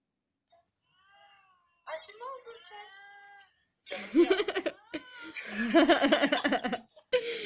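A cat meows several times, close and clear, with a person speaking and laughing in between and over the cries.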